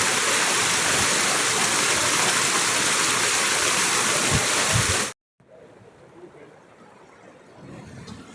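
Floodwater pours through a flooded tomato field in a loud, steady rushing roar that fills the first five seconds, then cuts off abruptly, leaving only faint background noise.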